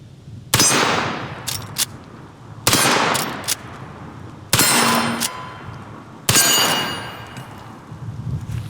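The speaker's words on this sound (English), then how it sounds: "very first shots from the Henry Model X 44 Magnum lever action rifle" Four loud, sharp gunshots from a Henry Model X .44 Magnum lever-action rifle, spaced roughly two seconds apart, each with a ringing metallic tail and a clack of the lever cycling between shots.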